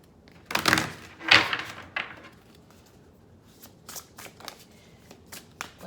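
Oracle cards are shuffled up close, giving a few loud riffling flutters at the start followed by softer, scattered card flicks and taps, with no talk.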